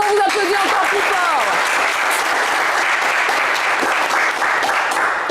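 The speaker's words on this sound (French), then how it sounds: "Bravo messieurs, bravo, vous applaudissez encore plus" Loud studio audience applause on a French television game show, dense continuous clapping with a host's voice speaking over the start.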